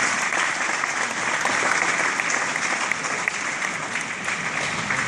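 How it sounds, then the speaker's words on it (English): Sustained applause from a crowd at a high school football banquet, dense steady clapping filling the room throughout. "give your parents a round of applause"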